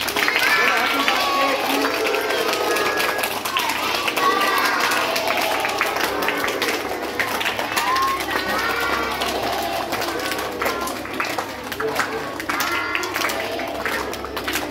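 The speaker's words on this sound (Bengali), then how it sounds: "চলো জোরে হাততালি দিও" Loud, sustained clapping and cheering from people at a birthday celebration, with crowd noise and children's voices mixed in throughout.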